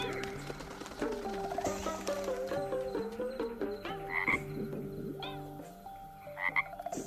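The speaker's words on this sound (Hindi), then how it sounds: "सारे मेंढक सभा में आना चाहते हैं।" Frogs croak in a dense chorus of overlapping, rhythmic calls, loud and close throughout, with a few higher chirps near the end and no one talking.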